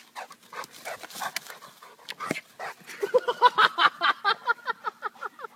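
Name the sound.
dog whimpering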